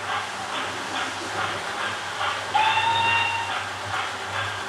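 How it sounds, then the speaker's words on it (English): A Hornby HM6000 model locomotive sound unit plays a steam whistle, a sustained tone lasting about a second and a half over steady rhythmic chuffing and a low motor hum. "Let's whistle again."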